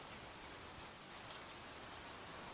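Steady rain falling in a garden on a wet afternoon, a soft, even hiss of drops with no pauses or voices, faint and diffuse throughout.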